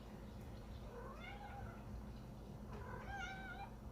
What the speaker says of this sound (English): get this cat out of here